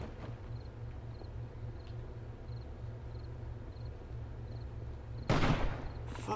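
A single hunting rifle shot in 7 Days to Die rings out as one sharp, loud crack near the end, following a quiet stretch of low ambient hum and faint repeating ticks.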